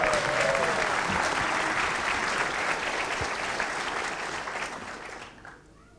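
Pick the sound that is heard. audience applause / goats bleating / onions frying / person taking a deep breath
audience applause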